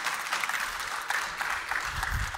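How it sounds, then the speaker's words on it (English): An audience applauds two presenters at a Formnext additive manufacturing expert session. The clapping is dense and continuous, with a steady crowd wash and no pauses. "Big applause for Klaus and Lennart."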